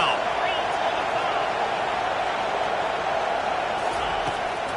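Steady stadium crowd roar in a college football video game featuring Utah, a broad, continuous wash of cheering that holds at an even level throughout with no distinct voices standing out.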